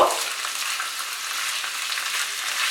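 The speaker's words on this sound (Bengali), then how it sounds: "চিকেনটা দেওয়ার পর এবার আমরা মিডিয়াম আঁচে এটাকে রান্না করব" Chicken pieces frying on a tawa over medium heat, a steady close hiss of sizzling oil throughout the short stretch without talk.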